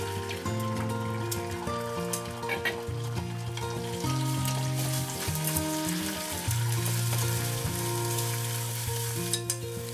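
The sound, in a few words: cooking soft scrambled eggs in a pan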